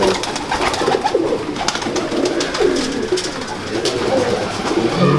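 Pigeons of a prized breed coo in soft, throaty bursts that repeat on and off, close by, against a steady background murmur with no talk.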